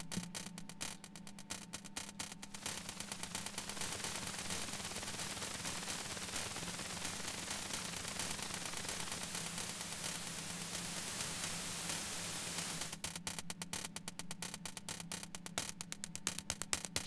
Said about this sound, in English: And maybe I will just add some real white noise.